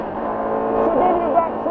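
A Triumph Tiger 1200 motorcycle engine pulls hard under acceleration, a loud continuous drone with rising pitch under a rider's voice speaking over it.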